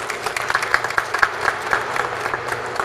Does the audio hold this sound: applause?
yes